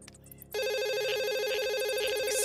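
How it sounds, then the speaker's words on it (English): A cartoon telephone bell starts abruptly after a half-second lead-in and keeps ringing loud and close in a fast, steady warbling trill, with no talk over it. "Oh, is that the phone?"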